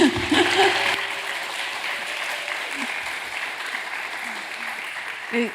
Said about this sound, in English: I think that really deserves a round of applause, honestly